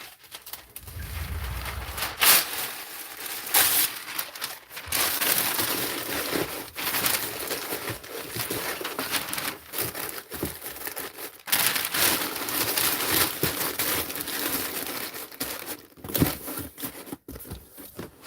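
Paper crumpled by hand while packing a Zippo lighter for shipping, dense crinkling bursts running steadily and close throughout, with a few louder snaps and crunches.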